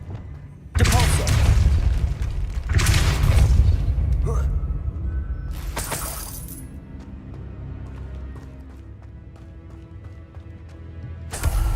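Depulso force spell cast in Hogwarts Legacy with objects shattering: loud, full-range bursts at the start and again about two seconds later, then a shorter crash, trailing into a rumbling game ambience with speech over parts of it.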